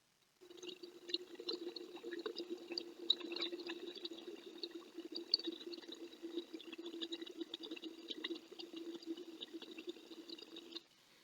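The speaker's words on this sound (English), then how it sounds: "So let me start blowing bubbles into this." Steady bubbling as breath is blown through a straw into a cup of dark green liquid, a continuous burbling that runs for about ten seconds with no talking.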